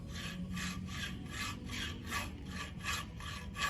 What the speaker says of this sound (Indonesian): Lalu, taruh kikir pada permukaan yang ingin dikikir.